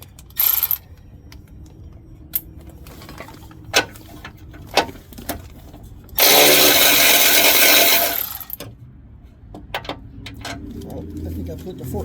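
A ratchet and power tool remove two bolts during a tow bar install. Scattered clicks and knocks lead into a loud, steady whir of about two seconds, followed by more ticking and clatter, all close by.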